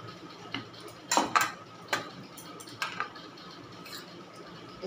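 Ripe mango pieces being lifted into a bowl for homemade ice cream, giving a few sharp clinks and soft knocks of utensil against dish, with the loudest pair near the start and scattered taps after.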